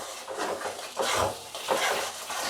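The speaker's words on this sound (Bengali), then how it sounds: "এবার শুধু মশলাটাকে ভাজতে হবে আস্তে আস্তে" Masala spices fry slowly in oil in a pan, with soft sizzling broken by rhythmic scraping and stirring strokes of a spatula against the metal, close and moderately loud.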